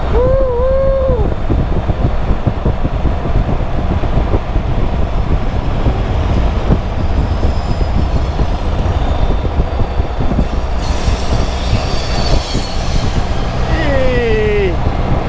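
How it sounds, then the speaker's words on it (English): A train passes on a beautiful day, heard as a steady loud rumble of rail cars with a horn-like tone near the start, all under strong wind buffeting on the microphone. "Oh, a choo-choo train."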